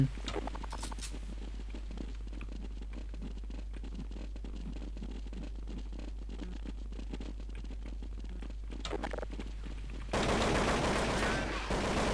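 Rapid spraying gunfire in Counter-Strike 1.6 runs as a steady stream of shots under constant game noise, growing louder and harsher near the end.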